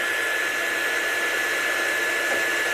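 A hair dryer blows on wet watercolour paint on a card, a constant, fairly loud whooshing roar that holds steady from start to end with no voices.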